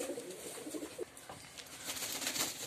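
Pigeons coo in soft, low repeated calls, fairly close, with faint rustling and a hiss of background noise and no talking.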